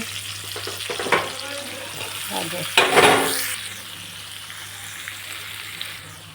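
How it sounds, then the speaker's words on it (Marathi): Mixed vegetables with chickpeas, peas, bean pods and eggplant sizzle in a pan with turmeric. A steady crackle of frying runs throughout, with a brief burst of stirring and scraping midway. "हे भाजीपाला फ्राय करून घेऊ"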